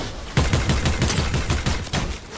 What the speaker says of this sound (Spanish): me da un headshot